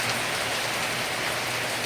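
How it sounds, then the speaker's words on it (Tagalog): Heavy rain pours steadily in a dense, unbroken hiss of drops hitting surfaces, loud and close, with no voices over it. "Ang lakas ng ulan guys."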